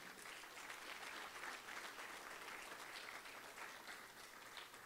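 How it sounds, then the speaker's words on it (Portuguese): A church congregation applauds steadily and loudly throughout, a dense, continuous wash of clapping with no talk over it. "Vamos dar uma salva de palmas para o Senhor."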